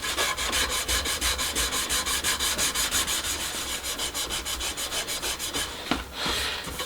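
Rhythmic back-and-forth strokes of 320 grit sandpaper over a wooden cyclekart steering wheel, steady and close, each pass a gritty rasp, with a brief knock near the end and no speech.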